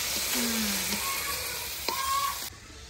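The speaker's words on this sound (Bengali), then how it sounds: "বেগুন ফুল ভাজি হচ্ছে" Food sizzles steadily in hot oil, a constant crackling hiss with a couple of soft clinks, cutting off abruptly near the end.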